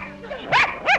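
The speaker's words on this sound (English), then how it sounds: "This nasty little dog." A nasty little dog gives two sharp, high yips about a third of a second apart, close and fairly loud, over faint background noise from an indoor scene in a 1937 film.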